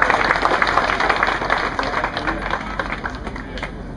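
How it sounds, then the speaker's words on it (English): Audience applause at a pro bass fishing tournament weigh-in, a steady outdoor patter of many hands clapping, moderately loud and fading slightly over four seconds. "Let's give him a big round of applause."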